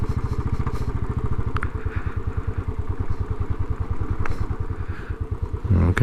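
A Royal Enfield Classic 500 motorcycle engine thumps in a steady, even single-cylinder beat at low revs, close and prominent, ending with a brief louder burst.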